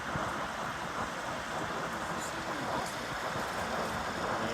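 Heavy rain during street flooding, a constant broadband hiss of rainfall and water with passing road traffic mixed in, steady and fairly loud for several seconds.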